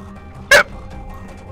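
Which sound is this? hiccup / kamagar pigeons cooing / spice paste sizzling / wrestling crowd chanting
hiccup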